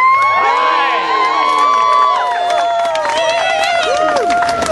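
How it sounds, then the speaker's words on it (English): Crowd at a Richmond, Virginia climate rally cheering, whooping and shouting for the event's sponsors, loud and close, with high excited voices over a bed of clapping. "Let's give our sponsors a round of applause."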